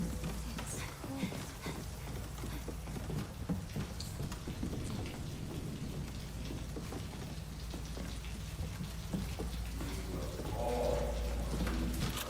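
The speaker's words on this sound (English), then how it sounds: "Rain. It's cold." Steady rain falls in the Fatal Frame 2 Remake video game, a constant hiss of drops on surfaces with faint distant thunder underneath, continuous throughout with a few soft tonal game sounds near the end.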